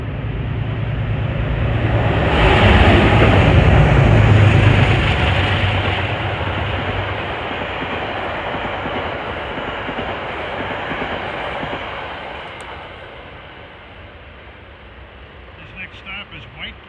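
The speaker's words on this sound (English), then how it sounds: "Approaching at 4:02 is train 943 bound for faraway Wassaic." Metro-North train 943 bound for Wassaic approaches on the Harlem Line, a swelling rail rumble with wheel noise that peaks and then fades slowly into a steady roll.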